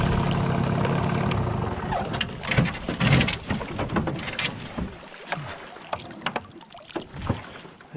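A small boat setting out on a Pennsylvania lake during deer hunting season moves across the water with steady low rumble and splashing, the hull slapping and knocking irregularly throughout, with no talk.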